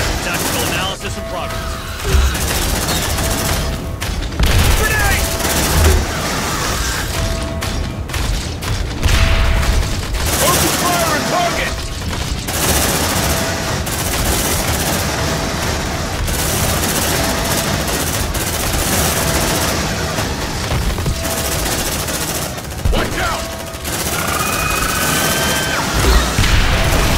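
Combat in Aliens: Dark Descent on nightmare difficulty, with dense gunfire and a grenade blast thudding through a noisy battle, heavy booms and rattling volleys throughout, with voices calling out over the din.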